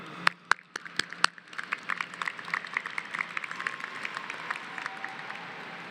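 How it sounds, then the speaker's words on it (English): Parents applaud at the Bowie High School graduation ceremony in Arlington: a few loud, close individual claps start it, then scattered clapping builds into a broader, distant round of applause across a large venue. "Give yourselves a round of applause"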